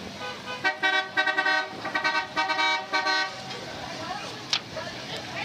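An old-timey car in a St. Patrick's Day parade toots its horn in a quick series of short, bright honks, then a single later blast, amid crowd noise and talk.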